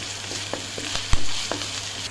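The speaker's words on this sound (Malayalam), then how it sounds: "നമുക്ക് ഈ വേവിച്ച് വെച്ചിരിക്കുന്ന ലിവർ നമുക്ക് ഇതിലേക്ക് ചേർത്ത് നല്ലവണ്ണം ഒന്ന് ഇളക്കി" Cooked liver sizzles steadily in a pan with onions and spices, with several scraping stirs and one sharper clatter against the metal, close and alone without speech.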